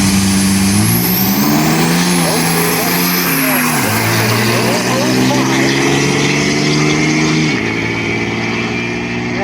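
Diesel trucks drag racing down a strip at a diesel event, loud droning engines rising in pitch through gear changes, with a commentator talking over the roar.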